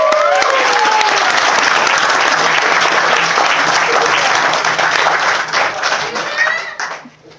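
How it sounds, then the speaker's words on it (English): Sustained applause from a large wedding crowd, loud and steady for several seconds before tapering off at the end, with a few voices mixed in. "I'd like to give an absolutely brilliant round of applause to Mrs. Gunn."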